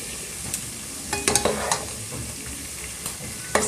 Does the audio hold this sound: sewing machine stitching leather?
no